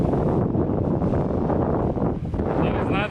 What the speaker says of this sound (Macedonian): Знаете колку дува.